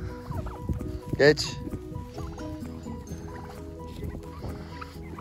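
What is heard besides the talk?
turkey gobbling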